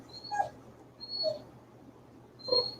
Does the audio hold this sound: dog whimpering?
yes